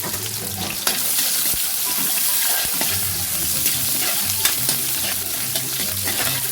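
Garlic, ginger and onion sautéing in a pan, a steady close sizzle with stirring scrapes and occasional clinks running throughout, no talking.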